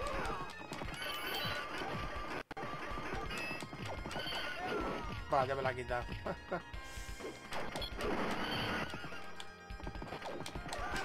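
Horses neigh and gallop with clip-clopping hooves and crashing hits in the arcade beat-'em-up Knights of the Round, a three-player online session, loud and continuous while players talk and laugh over the game.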